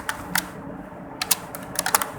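A BASIC program is typed on a computer keyboard, giving a few quick, close clicks of the keys in small bursts with a brief pause between them.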